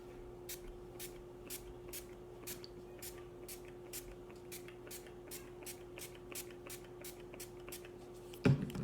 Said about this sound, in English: I swear I just sprayed about 20, 30 pumps for no reason.